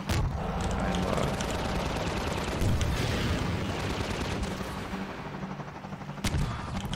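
Sustained heavy gunfire in Half-Life 2 at Nova Prospekt: dense automatic bursts and booming shots rattle on loudly, thinning toward the end before a sharp final crack, with someone talking faintly underneath.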